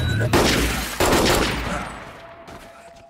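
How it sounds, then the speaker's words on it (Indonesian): A burst of loud gunshots rings out, sharp cracks followed by echoing decay, with a few more shots fading off. "Membuat si Yuki kesal dan melampiaskan tembakannya pada orang Rusia itu"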